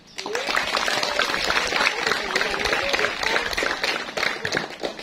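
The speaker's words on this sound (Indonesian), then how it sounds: "Tepuk tangan lagi untuk Mas Aga" Audience applause at an Indonesian flag ceremony for Independence Day, a continuous wash of clapping with some crowd murmur and a few voices mixed in, steady and fairly loud throughout.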